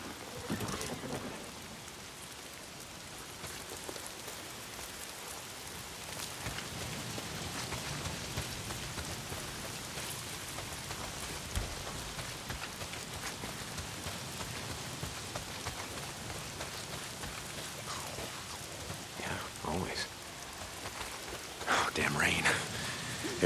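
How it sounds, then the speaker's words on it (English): Steady rain pouring in the Days Gone video game, a dense continuous hiss with occasional louder spatters and faint rumbles, close and fairly loud throughout. "If it's not the freaks, it's the goddamn rain. Why is it always raining?"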